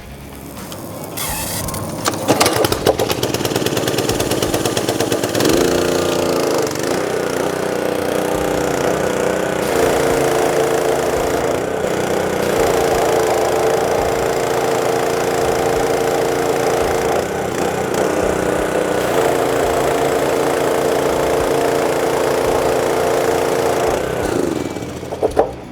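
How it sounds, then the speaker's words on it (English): A rebuilt pump runs steadily under a pressure test, a loud continuous mechanical drone with a motor-like hum that starts after a brief clatter and holds evenly for about twenty seconds before cutting off, with no talking. "Pump is working just like it should."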